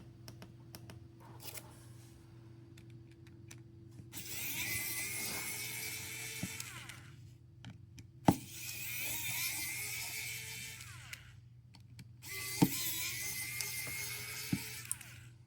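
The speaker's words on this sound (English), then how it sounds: "This automatic screwdriver makes everything so much easier." An automatic electric screwdriver whirs in three short bursts while removing screws from a Galaxy S21 phone during a screen repair, quiet and close, with small clicks and taps between the runs.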